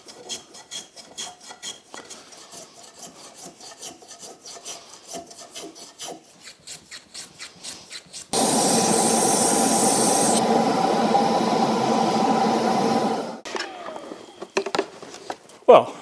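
A small hand plane shapes curved wood for a shoe horn in quick, rhythmic rasping strokes, then a loud steady hiss takes over before brief clattering.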